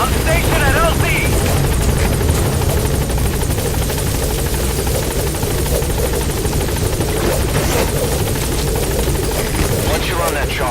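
In Metal Gear Solid 5, a helicopter arriving at the landing zone gives off a loud, constant rotor roar and engine drone, close and unbroken, while game dialogue is spoken over it.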